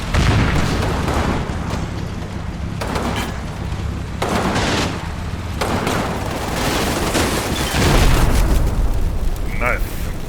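High-explosive shells detonating in the wargame Combat Mission Final Blitzkrieg, a steady rumble of heavy booms and blasts in dense succession, loud and continuous, with a player talking briefly over the barrage.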